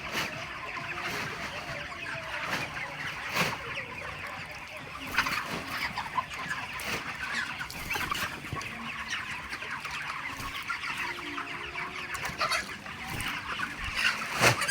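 Chickens clucking and squawking continuously, a busy flock close by in a poultry house with overlapping calls and scattered rustling.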